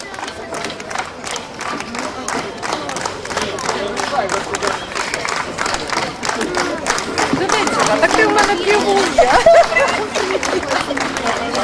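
Karaoke contest audience clapping and cheering steadily, a crowd noise that builds near the end, with a host's voice mixed in.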